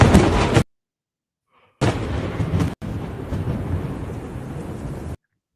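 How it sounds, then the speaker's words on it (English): Thunder from a lightning strike during a rainstorm: a loud, sharp crack that cuts off abruptly, a second of silence, then a heavy, sustained rumble rolling on for several seconds. "Hopefully that thunder sound came on through."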